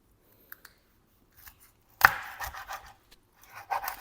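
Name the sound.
chopping fish with a knife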